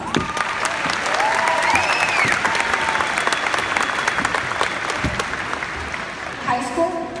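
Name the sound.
applause from graduating class at valedictory speech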